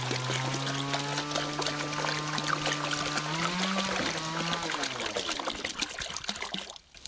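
Water is poured steadily from a container into a larger vessel while mixing a roof-protection solution from concentrate, a continuous splashing trickle that fades near the end, with a voice and other sounds over it.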